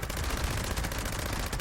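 A Gauss minigun in Fallout 76 fires a rapid, unbroken stream of shots, loud and dense throughout the short burst.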